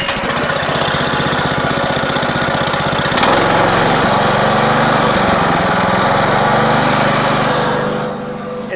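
A Honda gasoline engine runs at a loud, rapid, buzzing idle, stepping up to a fuller, busier roar partway through before easing slightly near the end.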